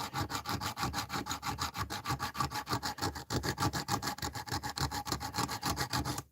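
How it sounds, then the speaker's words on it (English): Diamond wire sawing back and forth through a metal padlock, a steady rhythmic rasping stroke repeated many times, close and continuous with no voices. "I'm just going to keep sawing away for a while and see what happens."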